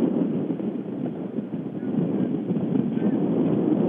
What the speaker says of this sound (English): wind's got to slow down a bit for us to even broadcast